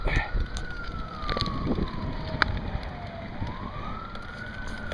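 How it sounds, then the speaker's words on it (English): Emergency vehicle sirens wailing on the road during a rally, a rising and falling tone sweeping up and down over steady vehicle rumble, moderately loud and fairly near. "There's sirens all over the place."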